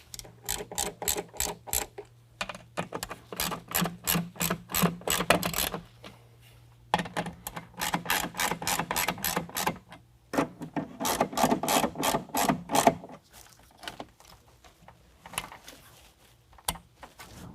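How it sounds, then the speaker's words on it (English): Rapid ratcheting from an 8mm socket wrench tightening hose clamps on a K&N 63 Series AirCharger cold air intake on a 2019 vehicle, in fast bursts of clicks separated by short pauses, close and fairly loud. "Then we're going to tighten down our hose clamps with the 8mm"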